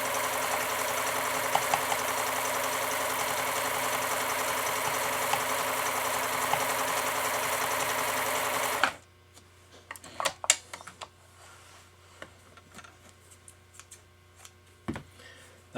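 A sewing machine stitches a pattern with a steady, loud mechanical whir that stops abruptly partway through, followed by quieter clicks and handling sounds.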